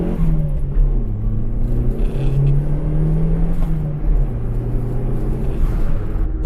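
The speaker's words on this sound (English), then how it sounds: "I know you can hear that noisy left wheel bearing though." A turbocharged Toyota Starlet rolls along with its engine droning and shifting pitch as revs rise and fall, while a steady whirring hum from a noisy left wheel bearing runs underneath, loud and close from inside the car.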